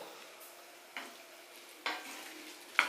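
Tomato chutney cooks in a pan: a quiet background simmer, with three distinct scraping stirs of a utensil against the pan, the last ending in a small metallic clink.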